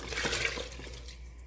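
Water with chopped coriander poured into a cooking pot in a home kitchen, a steady close splashing pour lasting about a second and a half that thins toward the end, with no talking.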